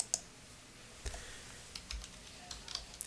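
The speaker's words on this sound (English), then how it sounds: "I could hit the insert key on my keyboard" Computer keyboard keys are pressed during an online software webinar, a few sparse, light clicks spaced out over quiet room tone.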